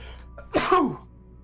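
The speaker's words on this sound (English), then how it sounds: "Sneeze number 1 of the night." A single sharp sneeze bursts out close by, a quick intake then a loud explosive burst lasting under half a second, with quiet before and after.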